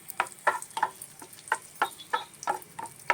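Raisins fry in two tablespoons of ghee in a pan over low heat, giving a quiet, irregular series of soft pops and crackles roughly every third of a second.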